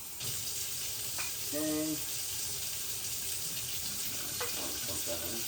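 Hot water runs steadily from a tap while a coffee maker is filled, a continuous close hiss and splash with a brief squeak of the tap, and a voice speaks a short word.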